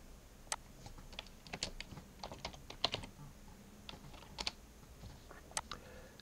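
A font name typed on a computer keyboard, several seconds of scattered sharp key clicks arriving in small irregular clusters, close and fairly quiet with no voice.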